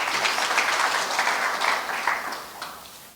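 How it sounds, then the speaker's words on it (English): An audience at the launch of the Mt Kenya Mountain Run applauding to welcome a special guest, a fairly faint, steady patter of many hands clapping that tapers off toward the end. "Can we welcome him with a round of applause?"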